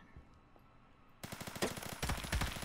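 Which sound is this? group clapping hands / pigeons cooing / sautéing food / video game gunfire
video game gunfire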